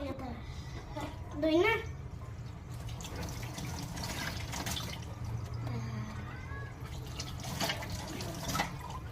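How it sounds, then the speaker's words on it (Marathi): Mangoes being washed under running water, a steady close splash and trickle from a tap with brief louder gushes, while someone talks over it. "आंबे मी आता सगळे स्वच्छ धुवून घेते"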